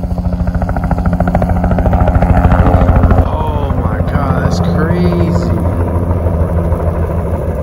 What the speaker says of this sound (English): We hear a helicopter.